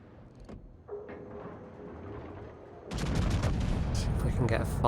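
World of Warships game audio, quiet mechanical sounds at first, then a loud burst of naval gunfire and booming continuing to the end as a warship's guns fire high explosive shells, with a player talking briefly.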